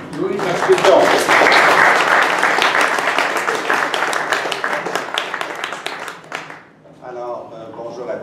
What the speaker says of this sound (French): Alors, on applaudit Louis Marchildon.